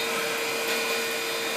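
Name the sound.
wood burner flue blower motor running, blowing air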